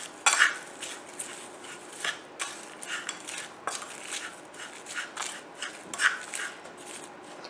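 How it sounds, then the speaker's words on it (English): A spoon stirs a dry dal mix of lentils and spices in a bowl, making repeated close scraping and gritty rustling strokes in an uneven rhythm with occasional clinks. "Now mix everything together."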